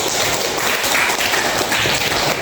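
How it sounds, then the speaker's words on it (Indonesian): A classroom audience gives applause, a steady wash of clapping that fills the whole short stretch at even loudness. "Give applause for Saros."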